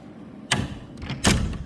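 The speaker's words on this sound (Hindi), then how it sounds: "और ये हो गया दरवाज़ा बंद" A house door is pushed shut in two quick knocks, a soft thump followed by a firmer closing thud about a second later, close by in a quiet indoor space.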